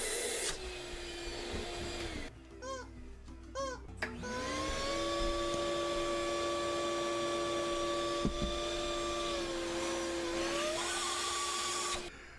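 A vacuum machine runs loudly and steadily with a high whine, briefly interrupted by a sputtering, gurgling stretch before settling into a sustained drone whose pitch shifts slightly near the end.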